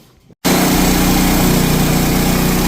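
A sawmill's motor, which keeps dying, restarts after a brief silence and settles into a loud, steady running drone that carries on without pause.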